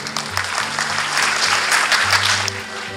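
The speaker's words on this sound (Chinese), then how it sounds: "也给谢市长一个掌声啊" A crowd in Keelung claps for Mayor Hsieh Kuo-liang at a ceremony honouring model fathers. The applause is loud, dense and sustained for about three seconds, with no talking over it.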